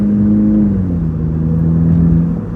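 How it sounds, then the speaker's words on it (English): A Mercedes A200 car's compressor whines steadily from inside the cabin, loud and close, a sustained tone that dips slightly in pitch partway through over a low engine and road rumble. "There's a compressor noise again."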